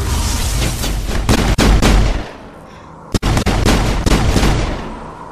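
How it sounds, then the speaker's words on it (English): Sustained gunfire in the video game Mass Effect, with loud rapid bursts of shots and heavy booms filling the whole stretch, broken only by a couple of brief gaps. "Shoot him in the leg, Shepard"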